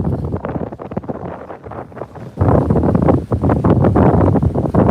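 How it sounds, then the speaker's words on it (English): Strong gusts sweep across a Copano Bay shoreline on the Texas Gulf Coast, buffeting close and loud in a rough continuous roar that swells sharply halfway through. "it's been so windy every time I come out here."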